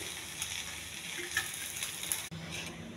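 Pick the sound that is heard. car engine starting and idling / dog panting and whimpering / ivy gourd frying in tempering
ivy gourd frying in tempering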